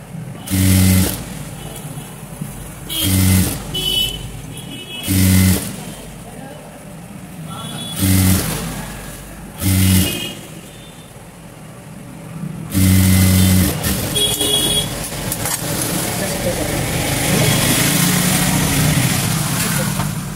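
A sewing machine stitches lining cloth in several short bursts, then runs in a longer continuous stretch, close up. A voice talks between and over the stitching.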